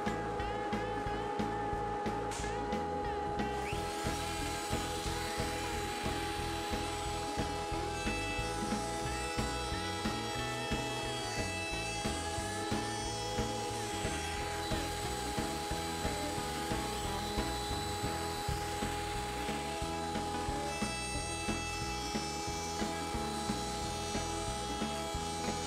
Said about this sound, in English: I raise the bit to the full thickness of the board and run the board through again.